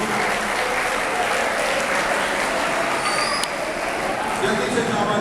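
A crowd at a school annual result ceremony in Lahore claps in a loud, sustained burst of applause for prize winners, with faint voices mixed in.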